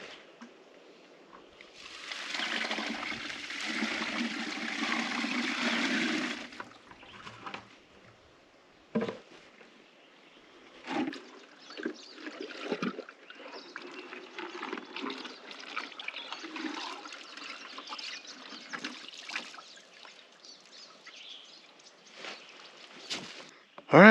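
Water sloshing and swirling in a gold pan while a prospecting sample is washed outdoors, first a steady rushing pour for a few seconds, then intermittent splashes and trickles, close and moderately loud.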